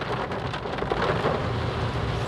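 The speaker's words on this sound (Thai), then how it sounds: "ฝน พายุฝน" Heavy rain pours down in a steady, dense hiss, with a low rumble underneath suggesting a storm, loud and continuous with no voices.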